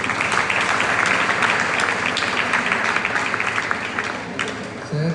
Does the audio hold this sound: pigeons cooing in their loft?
no